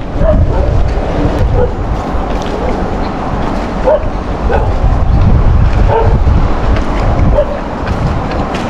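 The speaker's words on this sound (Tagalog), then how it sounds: "may aso." A dog barks and yips repeatedly in short bursts over a noisy outdoor background, with some rustling and movement nearby.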